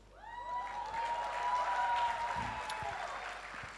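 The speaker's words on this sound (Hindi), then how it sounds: "तालियां बजाइए प्लीज" Applause from an audience at a home-décor app launch event, a steady broad wash of clapping that swells and holds throughout, with faint voices and a tonal sound running underneath.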